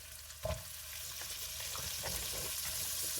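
Bottle gourd drops into a pan of prawn masala with a soft thud, then a steady, close hiss of frying oil carries on with light stirring scrapes.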